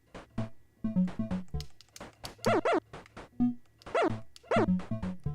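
Retro chiptune-style dog bark sound effect from a Pico-8 game, several short yappy barks in quick bursts, loud and close, with some overlapping sound between them.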